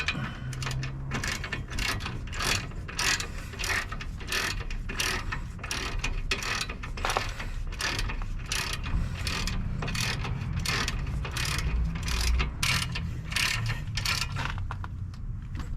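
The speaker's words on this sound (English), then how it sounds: "we'll get our 18mm bolts in the back here in. We'll tighten those up." Ratchet clicking steadily as 18mm rear brake caliper bolts are tightened on a 2015-2022 Chevy Colorado, rapid repeated pawl clicks in close-up bursts over a low workshop background.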